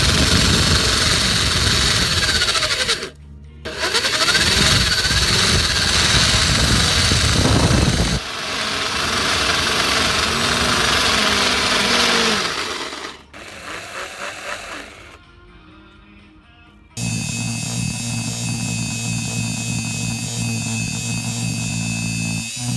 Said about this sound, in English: So let's mark that area and let's sand it down.